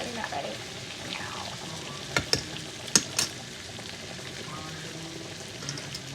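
Country fried steak sizzles and fries on a flat top griddle with a steady crackling hiss, broken by a few sharp scraping clicks from a spatula partway through.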